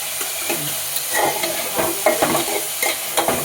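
Chopped tomato with salt frying in a pan, a loud continuous sizzle broken by frequent scraping and clattering stirs of a spatula.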